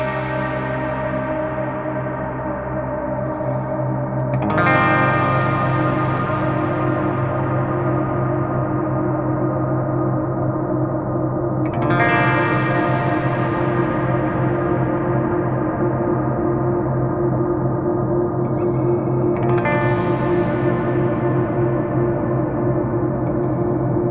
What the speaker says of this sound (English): So we have kind of a distorted effect built into the reverb there.